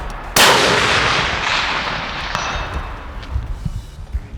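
A single sharp, loud rifle shot from a longer-length-of-pull rifle on a range, its boom decaying slowly over a few seconds before quieter handling noises follow.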